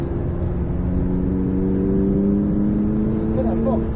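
A McLaren 600LT accelerates hard on a race circuit, its engine a loud, sustained droning roar heard from inside the car, with steady tonal lines and a slight rise in pitch.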